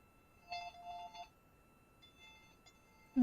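An incoming call rings aboard the International Space Station as two short electronic ringing bursts separated by a pause, fairly quiet in a hushed background, ending with a sharp louder tone.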